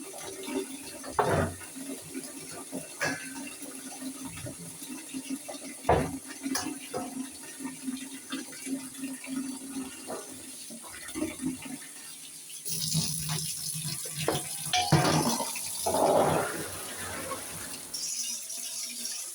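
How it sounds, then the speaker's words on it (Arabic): Green beans are washed under a running kitchen tap, with water splashing steadily into the sink and swelling into a louder, fuller gush partway through, close and without talk. "نغسل الفاصوليا الاول عشان نحطها في الميه"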